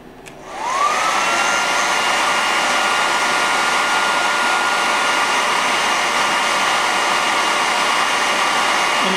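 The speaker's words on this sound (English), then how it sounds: "I'll turn on the hairdryer now and heat up the pad." A hair dryer heating a circuit pad switches on and spins up, then blows with a loud, steady whooshing whine close by, uninterrupted.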